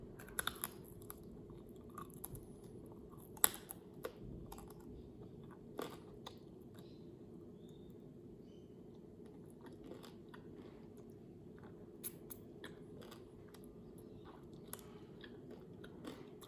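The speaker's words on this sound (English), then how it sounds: "It sounds really crunchy, but it's just because it had like a Thai marinade and that's burnt slightly" Quiet, close crunchy chewing of slightly burnt Thai-marinated chicken skewers, irregular bites and crackles repeating over a soft background with no talking.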